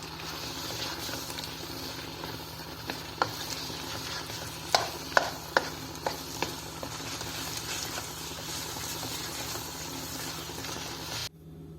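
Dal palak, a spinach and lentil curry, being stirred in a pan as butter melts into it, with a soft continuous sizzle and a cluster of sharp spoon clinks and scrapes in the middle, close and without talk.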